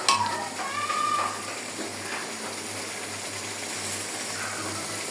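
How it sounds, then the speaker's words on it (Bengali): Marinated chicken coated in turmeric and chili stirred in a hot pan, a steady broadband sizzle with faint scraping of the spoon, close and continuous with no talking. "ভালো করে নেড়ে নেবে।"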